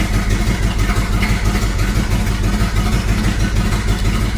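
A Buick engine fitted with a Holley 750 double-pumper carburetor runs steadily at idle, a loud, close, continuous low rumble with a regular throbbing pulse and slight rises in revs.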